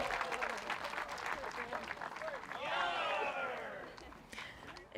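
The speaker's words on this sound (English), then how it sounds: "You just hear the whole crowd go, ooh, like low tones." A crowd at a disc golf tournament lets out a long, low collective 'ooh' after a throw lands near the drop zone, mixed with scattered cheers and clapping at moderate distance.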